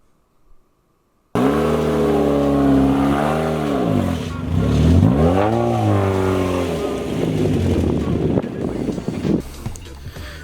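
A lifted Honda Civic wagon with a rebuilt viscous coupler and a lift kit drives off-road while rock crawling, its engine loud and close, rising and falling in pitch as it revs over the terrain after a brief silence.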